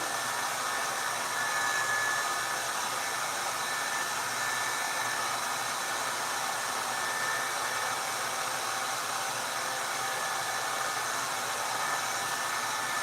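A hair dryer blows steadily while hair is blow-dried, a loud, continuous, even whoosh that holds for the whole stretch with no pauses and no talking.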